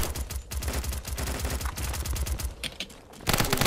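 Rapid automatic gunfire in SOCOM 2 Blizzard remaster, a weapon stuck in full-auto, loud and continuous bursts with a brief pause before firing resumes.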